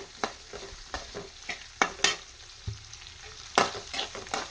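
Dried ginger sautéed in a pan, with a series of sharp spatula scrapes and taps at an irregular rhythm over a soft, low sizzle, close by and without speech.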